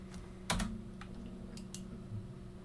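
A few light taps on a computer keyboard sound as a command is typed: one sharper click and several faint ones spread over a steady low background hum, quiet and close, with no speech.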